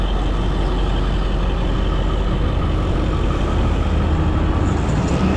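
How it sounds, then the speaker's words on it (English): A loud truck engine roars past close by, a steady heavy rumble with wind noise filling the whole stretch, heard while riding a Kaabo Mantis V2 dual 1000W electric scooter at speed on the road. "god damn, I hate loud trucks, especially the ones where they make it loud."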